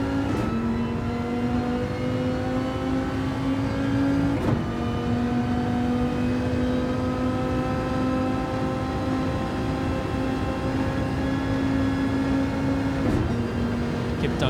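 A race car engine in a racing game at Mount Panorama holds a steady high rev for a long, loud stretch, with brief gear-shift breaks near the start and end.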